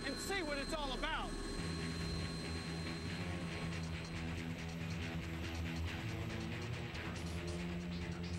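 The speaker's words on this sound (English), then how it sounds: "Check out how the Osprey starts like a twin-rotor helicopter, executing a perfect vertical takeoff." An Osprey tiltrotor aircraft lifts off in a vertical, helicopter-style takeoff, a loud steady rotor and engine roar filling the scene with droning low tones, while a voice talks over it throughout.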